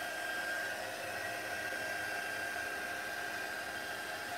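A hair dryer blows steadily at close range, drying foil on a wood stencil, a loud unbroken whooshing hum with a faint whine that holds constant throughout.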